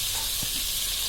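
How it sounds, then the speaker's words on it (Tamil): Onions sautéing with salt in a pan, a steady close sizzle and hiss over the short stretch, with a soft stir knock partway through. "போட்டால் இன்னும் நல்லா வதங்கி நல்லா அப்படியே பொன்னிறமாக வர்ற வரைக்கும் நல்லா அப்படியே வதக்கி விடுவோம்"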